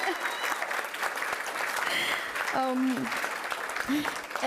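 An audience at an engineering innovation prize final breaks into sustained applause, a dense wash of clapping with brief voices and cheers rising through it.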